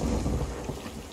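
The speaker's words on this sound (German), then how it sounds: "Achso, ist Sturm." Thunder rumbles during a storm at sea in the video game Sea of Thieves, heavy and low, with rain hissing over it. The sound rolls on for the whole second with no voices.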